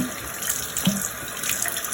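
Water runs steadily from a bathroom tap as someone wets their face, a close, continuous splashing stream with a brief gurgle partway through and no voices.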